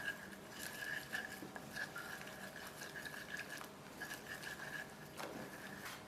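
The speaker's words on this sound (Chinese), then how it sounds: "边倒边搅拌" A utensil stirs flour into sugared yeast water in a bowl, making repeated light scraping and clinking strokes at close range, quiet and uneven in rhythm, with no voices.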